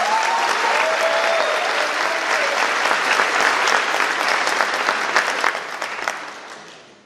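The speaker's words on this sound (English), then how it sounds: "Let's give them a round of applause" A loud, sustained round of applause from a large graduation audience, thick and continuous clapping that tapers off near the end.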